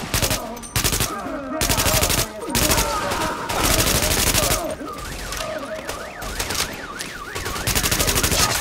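Heavy automatic gunfire in Tom Clancy's The Division, loud sustained bursts of rapid shots separated by brief pauses, with a warbling alarm-like tone in the middle section.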